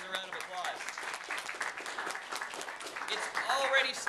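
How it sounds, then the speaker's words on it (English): Applause and cheering from an audience at a meeting, a dense continuous patter of claps with whoops, steady and fairly loud across the whole moment. "Please give these guys a round of applause."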